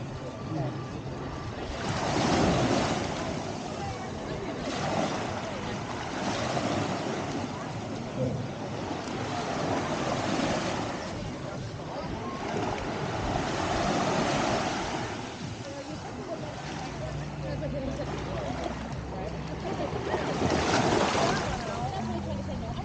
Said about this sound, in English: I didn't put any background music in for most of these beach scenes just so you can hear the sounds of the ocean.